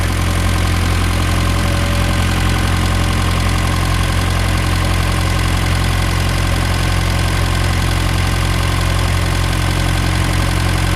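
A Minerva engine runs steadily after a starter clean-up, with a constant loud droning idle and an even low rumble, unchanging throughout with no voices.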